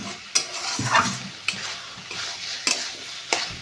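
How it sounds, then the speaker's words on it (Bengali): Flour being stirred into taro leaves in a pan, with a spoon scraping and clacking against the metal in irregular strokes over a soft frying sizzle, close and fairly quiet. "ময়দাটা দেওয়ার পরে আবার ভালোভাবে ময়দাটাকে কচুর শাকের সাথে ভালো করে মেশাতে হবে।"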